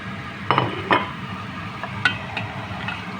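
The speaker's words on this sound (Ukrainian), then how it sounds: "все ретельно перемішую." Vegetables, including peppers, are stirred in a pot with a utensil, giving a few light scrapes and clinks over a low background sizzle.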